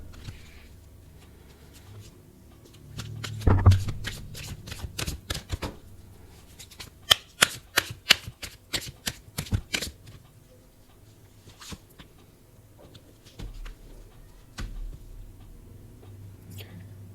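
A tarot card deck is shuffled at close range, giving rapid papery riffles and flicks in scattered bursts with quiet gaps between them and no talking over them.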